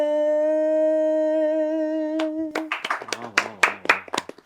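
On a singing show stage, a held sung note rings out, then breaks into a burst of audience clapping, uneven and loud at first before thinning into scattered individual claps.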